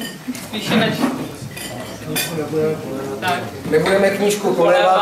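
Half-litre beer glasses clink and dishes rattle during a toast at a book launch in a Prague pub, with people talking over the clatter throughout.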